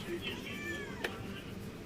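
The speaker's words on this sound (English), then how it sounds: "So he's got a couple of cats with him." A pair of cats sheltering indoors from a tornado give a few drawn-out meows close by, the calls rising and falling over a steady background rumble while a person speaks.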